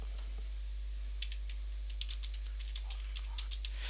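Keys on a computer keyboard tap out a note in sparse, faint clicks over a steady electrical hum, close by with no voice.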